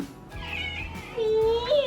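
A pet cat meows near the microphone, a single drawn-out meow rising toward the end, heard over a soft indoor background.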